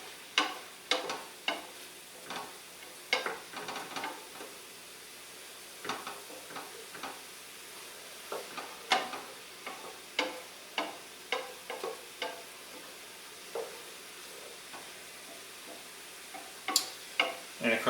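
Vegetables searing in a pot for bean soup, a soft low sizzle broken by frequent sharp clicks and taps of a utensil against the pot, irregular and close but fairly quiet.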